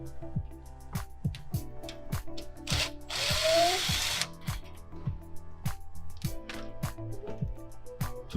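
A power driver with a 1/4 socket bit whirs for about a second while backing out dishwasher rack screws, amid a steady run of sharp ticking clicks and faint handling noises, with brief talk in the background.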